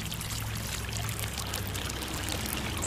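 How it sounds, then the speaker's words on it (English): Water is poured from a pitcher over a mound of sand, soil, pebbles and mud, giving a continuous close splashing and trickling wash that holds steady throughout without talking. "Now, slowly pour a pitcher of water over the top."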